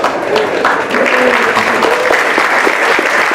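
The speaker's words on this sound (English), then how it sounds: "You guys give them a round of applause" Audience applause at a tech meetup evening in Silicon Valley, a dense, even burst of clapping that holds steady for a few seconds.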